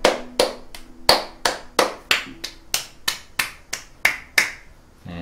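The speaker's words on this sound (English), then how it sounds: "Can you clap that rhythm?" Hands clapping a simple rhythm in a music lesson, about fourteen sharp, close claps spaced in an even pulse with brief ringing decays between them, heard alone with no talking.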